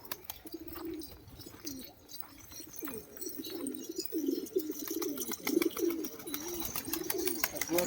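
Domestic pigeons kept by a Maharashtra pigeon fancier coo repeatedly in soft, rolling low calls, fairly quiet, with faint clicks and rustles around them.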